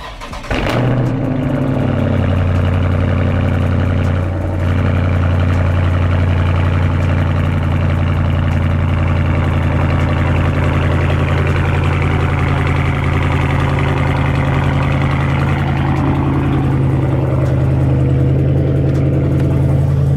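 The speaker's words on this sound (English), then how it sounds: "Get a little cold start for you guys" A Dodge Charger Scat Pack Widebody cold start, with a sharp crank and a loud catch that flares briefly, then settles into a deep, steady, rumbling idle heard close and without voices.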